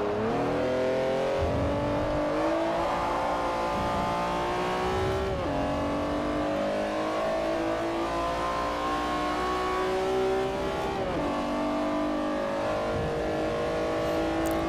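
A race car engine in the Forza Motorsport 4 racing game roars loud and steady, climbing in pitch through the gears with a couple of sharp shifts. No one talks over it.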